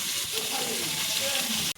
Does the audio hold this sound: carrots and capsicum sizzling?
yes